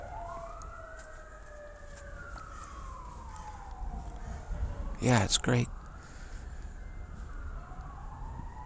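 Emergency vehicle sirens wail outside, faint and distant, rising and falling throughout beneath a brief spoken exchange indoors.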